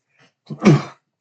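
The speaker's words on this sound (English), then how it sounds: "sorry, I had to sneeze." A single sharp sneeze bursts out close up, preceded by a quick intake of breath, then quiet.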